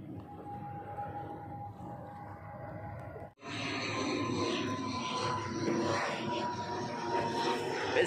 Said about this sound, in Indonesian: Pesawat tujuan bau-bau dari Kendari, Sulawesi Tenggara.